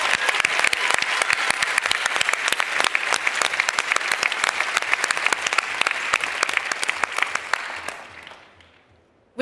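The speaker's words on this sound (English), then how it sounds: "Let's give a huge round of applause to our volunteers." A large conference crowd at the Slush 2023 startup event applauds its volunteers with loud, sharp, rapid clapping that holds strong for about eight seconds, then fades away to near silence.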